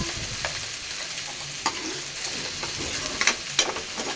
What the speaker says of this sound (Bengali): এবার মশলা করবো মশলার মধ্যে দিয়ে তাকে কষাবো